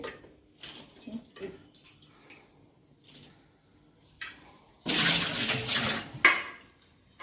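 Fresh green dates (kharek) being rinsed by hand in water for a second wash, with soft splashing and sloshing that swells into a louder, continuous stretch of running, churning water near the end.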